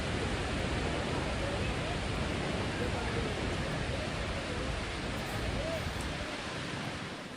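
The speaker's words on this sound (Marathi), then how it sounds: "प्रचंड पावसामुळे हा धबधबा आता ओसंडून वाहू लागलाय." A massive waterfall, swollen and overflowing after heavy rain, roars as a loud, dense, unbroken wash of falling water that fills the whole stretch evenly, with little change.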